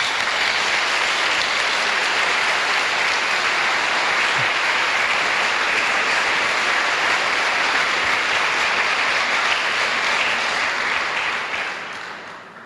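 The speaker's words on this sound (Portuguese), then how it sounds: "para eles peço uma salva de palmas." A crowd applauds steadily and loudly for several seconds, dense clapping that fades out toward the end.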